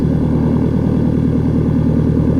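Steady, throaty drone of a Piper Archer III piston engine in X-Plane 12, a loud, even propeller hum with a fast regular pulse and deep bass, holding constant with no voices.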